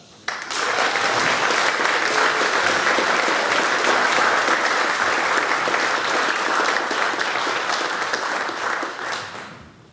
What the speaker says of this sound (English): Make some proper noise for Taun Chapman.